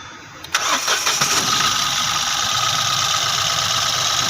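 A Mahindra TUV300 car engine, freshly overhauled, cranks briefly and catches, then settles into a steady, loud idle that continues to the end.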